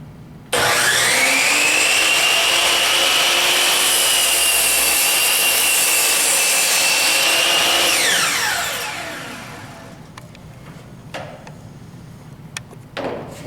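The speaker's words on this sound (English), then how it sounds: "I'm going to make a square cut." A radial arm saw slices a square crosscut through wood, its loud, steady whine running for about eight seconds before spinning down and fading, followed by faint scattered clicks and knocks.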